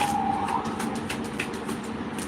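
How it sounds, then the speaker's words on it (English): An emergency siren sounds outdoors, its wailing tone rising and then fading away behind steady traffic and street noise, heard at a distance with no speech. "And then I heard the siren outside."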